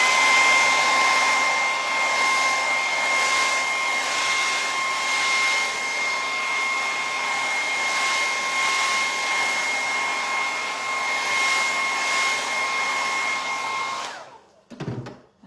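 A heat tool blows continuously as it dries paint on a stenciled denim-pocket craft, a loud, steady close-range whir with a constant tone that holds for about fourteen seconds before it switches off with a brief clunk.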